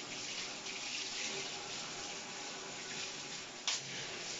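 Water rushes steadily through a newly installed shower head, a constant close hiss with one brief knock near the end.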